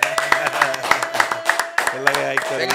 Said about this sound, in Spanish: un fuerte aplauso a mi héroe, Sengo.